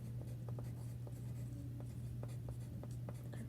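A pen traces a heart outline onto fabric to mark it for stitching. Faint, quick scratchy strokes come in short bursts over a steady low hum.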